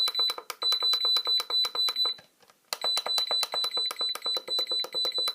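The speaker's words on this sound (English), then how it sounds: "You're probably going to hear a lot of this when you're changing settings on your charger." Rapid electronic beeps from a Venom Pro-2 battery charger repeat in quick bursts as settings change, a brief pause, then the fast beeping resumes; thin, high and fairly near.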